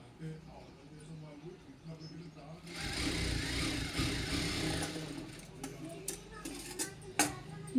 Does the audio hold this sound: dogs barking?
no